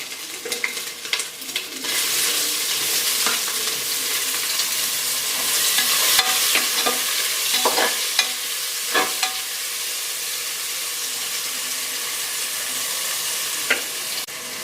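Ginger garlic paste and onion frying in oil for veg pulao, a loud steady sizzle running throughout with occasional spoon stirs and scrapes, close up and without any talking.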